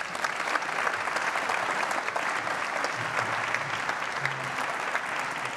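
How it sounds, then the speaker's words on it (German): An audience at a conference stage event bursts into sustained applause, a dense wash of many hands clapping steadily throughout, loud and close, with no talk over it. "Das ist Ihr Applaus."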